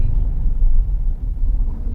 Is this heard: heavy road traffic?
yes